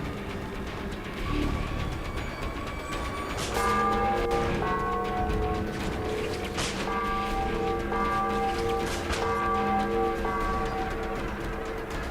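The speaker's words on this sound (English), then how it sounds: "I should be hitting that bell and making some noise." Ringing bell tones in the Spider-Man: Web of Shadows video game, several struck peals layered and decaying over a steady background wash, fairly loud and continuous with no talking.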